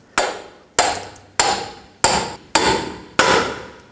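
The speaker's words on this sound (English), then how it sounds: "Now I'm going to use a pickle fork to separate the ball joint from the knuckle." A hammer drives a pickle fork to separate a ball joint from the knuckle on the front lower control arm of a 2004-08 Nissan Maxima, six loud sharp metallic strikes at an even rhythm, each ringing briefly, close up.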